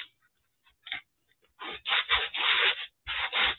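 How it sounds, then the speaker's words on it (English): A sanding block rubs back and forth over wood in a series of raspy scraping strokes, close and fairly loud, after a few light taps. "sanding block from the Dollar Tree."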